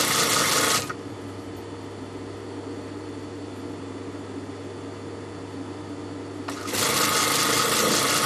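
A sewing machine seams dress fabric in one continuous run of about six seconds, its steady whirring drone loud and close between brief bursts of broader noise at the start and end.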